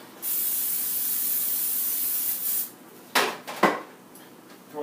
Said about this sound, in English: we have one of these fancy sprays here. Spray it down.